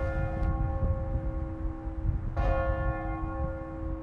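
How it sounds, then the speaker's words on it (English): St. Patrick's church bell, rung the old-fashioned way, tolls in two distinct strikes with long humming, sustained overtones ringing between them, heard at a moderate distance over steady low background rumble. "St. Patrick's bell still works the old-fashioned way"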